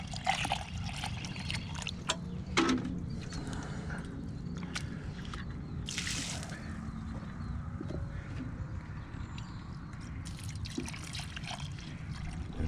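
Water trickles and splashes while tumbled rocks and ceramic media are rinsed after step 2 of rock tumbling, with steady running water and occasional clacks of stones and media knocking together close by.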